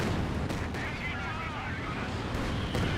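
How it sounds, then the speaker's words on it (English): A Katyusha rocket barrage in Company of Heroes 2, a continuous low rumble of distant launches and impacts, fairly quiet, with faint talk mixed in. "Katusha rocket barrage running on in"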